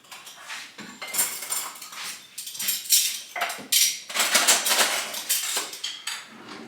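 Cutlery clatters and clinks against dishes while a table is set at a French restaurant, a close, busy series of sharp metallic chinks and rattles arriving in irregular bursts with no talk.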